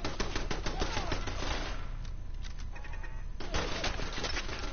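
A machine gun turret in a video game fires rapid, steady bursts of gunfire that briefly thin out midway before resuming at full pace, with no voices.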